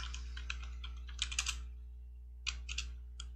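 A computer keyboard is typed on in short, close bursts of crisp keystrokes separated by pauses, over a steady low electrical hum with no voices.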